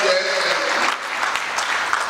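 An audience at a regional political meeting in Yenagoa applauds with steady, dense clapping that holds at an even level for the whole stretch, with no pauses.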